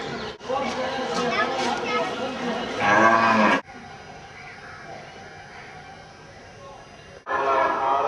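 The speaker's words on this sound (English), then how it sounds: "cows in the street" Cows mooing in a bustling, off-the-beaten-track village street in Punjab or Rajasthan, India: a loud, drawn-out low call rises over steady street chatter and background bustle, and the crowd noise carries on after it.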